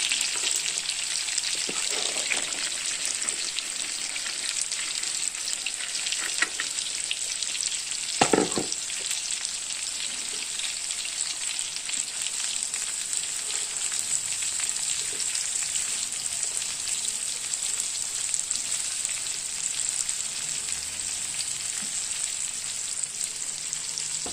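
Chicken malai kebabs frying in a pan, a loud, steady close-up sizzle with spattering crackles and a brief knock partway through, no talking.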